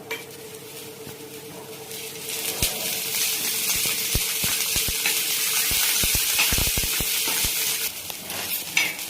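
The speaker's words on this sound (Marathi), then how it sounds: "एक मोठा कांदा उभा कट केलेला आहे तो भाजून घ्यायचा आहे आपल्याला थोडंसं तेल टाकते" A large vertically sliced onion frying in a little oil in a pan gives a steady broad sizzle throughout, with scattered sharp clicks and taps of a utensil stirring it, fairly loud and close, without any talk.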